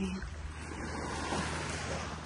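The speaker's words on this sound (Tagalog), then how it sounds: "Tanging tunog lamang ng hampas ng alon." Waves wash and break steadily, a broad continuous rush with some wind noise, heard close with no speech.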